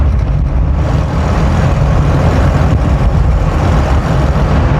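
A 1980 Triumph Dolomite 1500 Automatic drives on the road, heard from inside as a loud, constant low engine drone and road rumble that stays even throughout, with no speech.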